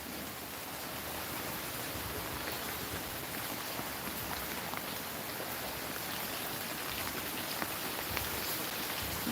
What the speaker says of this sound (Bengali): আজকেও মনে হচ্ছে সারাদিন বৃষ্টি হবে